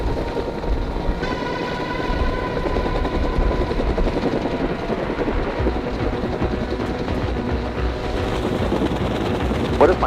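Helicopter engine driving the rotor during an airlift of a wrecked UTV, a loud, steady roar and thrum filling the whole stretch, with a higher whine rising in as the RPMs climb.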